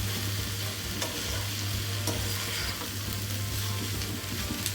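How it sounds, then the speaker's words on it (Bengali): Mixed vegetable fry with chopped coriander being stirred in a pan, a steady broadband sizzle with occasional soft scraping knocks of the spoon, close and continuous with no voices. "আমি ধনেপাতা কুচি দিয়ে একটু নেড়ে চেড়ে"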